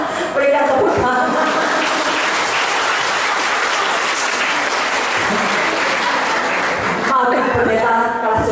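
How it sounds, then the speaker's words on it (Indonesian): Applause from a congregation at an Indonesian church revival service in Lubuk Linggau, loud dense clapping that sustains for several seconds, with a speaking voice heard at the start and again near the end. "Berikan tepuk tangan."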